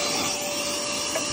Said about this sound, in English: I think I'm just gonna use my handy dandy vacuum cleaner and vacuum it again.